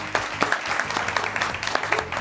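Studio audience applause on a Bhojpuri television game show, a steady patter of clapping with sharp bursts, close and fairly loud throughout with no talk over it.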